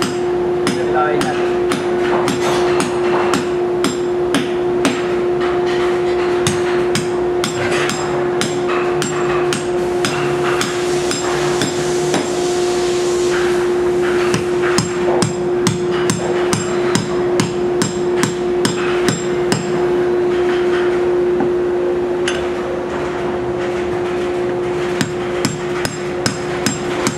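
Anchors are hammered down to sheath depth during a module installation, a long steady series of loud, sharp metallic strikes at a quick regular pace, close up over a constant high hum, with no talking.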